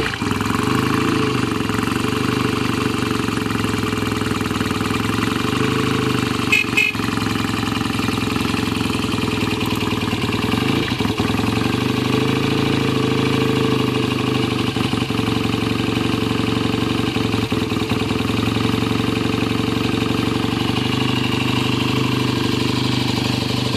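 A 1968 BSA Lightning A65 motorcycle idles steadily up close, its twin-cylinder engine holding a loud, even throbbing rumble throughout with a brief disturbance partway through.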